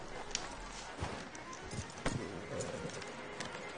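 Steady clip-clop of horse hooves on a hard surface in the video game Red Dead Redemption 2, a continuous rhythmic trot with rushing background noise and no talking.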